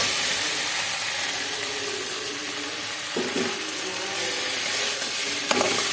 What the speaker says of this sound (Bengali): আমি এখন পেঁপে আর আলুটা যে ভেজে রেখেছিলাম ওটা দিয়ে দিচ্ছি